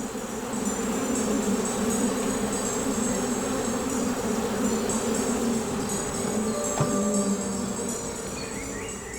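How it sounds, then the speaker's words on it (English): A steady, dense buzz of bees drones on throughout, a busy hum of many wings close by, with no voices. "The bees will range all over the urban landscape to find flower beds and gardens"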